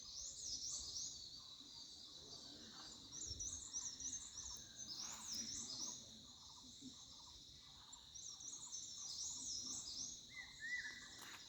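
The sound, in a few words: birds chirping all around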